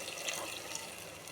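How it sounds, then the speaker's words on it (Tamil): Water trickles steadily and softly into a cooking pan of dried fish as a Tamil-style karuvadu thokku is prepared, a quiet, even pouring with no talk. "நான் கொஞ்சமாக தண்ணி விடுறேன்."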